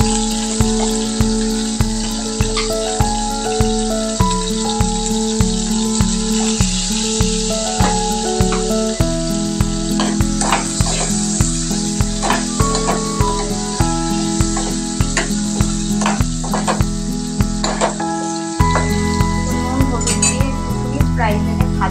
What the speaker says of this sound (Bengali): ফ্রাই প্যানে ভাজা ভাজা হোক আলু আর পটলটা।